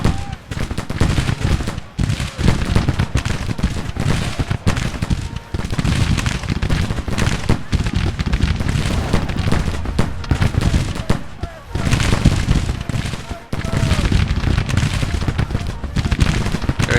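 Musket volleys from Grand Tactician Civil War battle lines crackle almost nonstop, with loud, dense rippling shots overlapping into a continuous roar broken by a few brief gaps.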